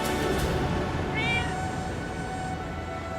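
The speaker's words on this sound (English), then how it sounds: "You're my favorite little cat." A cat in the video game Diablo 4 lets out a clear, drawn-out meow near the middle of the clip over a steady background of game music and ambience.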